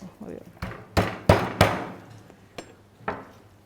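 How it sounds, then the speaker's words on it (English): Garlic cloves are crushed with a knife on a board, a series of sharp, close thuds, five or six separate knocks spaced irregularly with ringing tails, heard without talking. "You just need to crush it slightly with a knife."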